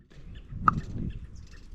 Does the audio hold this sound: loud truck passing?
no